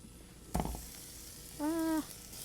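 Shrimp hitting a warm pan for cheesy pasta, a short sizzle and clatter followed by a faint steady hiss, with a brief tonal squeak near the end and no talking.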